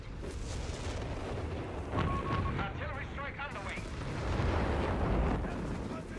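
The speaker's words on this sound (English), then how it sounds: "Oh, here's the zeroing artillery again" Artillery barrage in the Company of Heroes 3 strategy game, a dense wash of rumbling blasts and crackling impacts, with a voice talking over the battle noise throughout.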